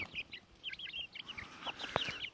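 Backyard chickens in a coop cluck close by in quick, repeated short calls, a lively run of overlapping hen chatter with a sharper squawk near the end.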